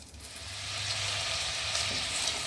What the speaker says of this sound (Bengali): ওটা দিয়ে এবার এই ভেজিটেবলসগুলো ফ্রাই হবে